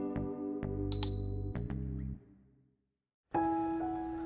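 A short synthetic notification bell ding rings out clearly over a sequence of soft electronic tones, then a pause of silence before another chime-like tone returns.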